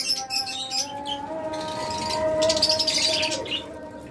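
Pet birds kept for sale chirp and tweet continuously, several overlapping high calls at moderate distance with a soft background hum, and no talk.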